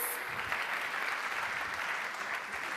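Steady, moderately distant audience applause at a closing ceremony of an international food forum, an even patter of many hands clapping without pause.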